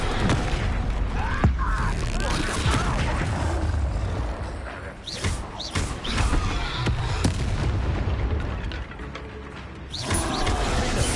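Spell blasts crack and boom in rapid succession during a Hogwarts Legacy fight, sharp impacts and rumbling explosions over a busy mix of combat effects and music, with no talk.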